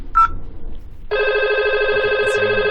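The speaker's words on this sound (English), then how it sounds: "Okay, it's ringing." A VoIP desk phone rings for an incoming extension call. After a brief click, a steady electronic ring tone starts and continues loudly to the end.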